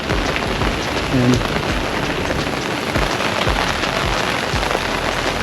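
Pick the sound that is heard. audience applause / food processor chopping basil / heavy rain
heavy rain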